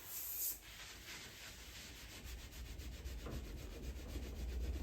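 Algae is scrubbed off a Citroën 2CV part with a steady, close rubbing and scraping that repeats in soft strokes. It is fairly faint throughout.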